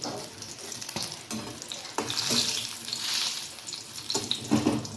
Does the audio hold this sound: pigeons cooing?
no